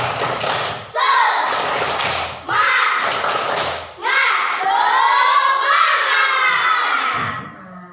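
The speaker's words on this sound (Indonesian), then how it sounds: "mari kita tepuk semangat dulu" A classroom of children performs a rhythmic spirit clap, claps and thumps in short bursts with shouted chanting voices between them, loud and close, sometimes drowned by the group's shouting.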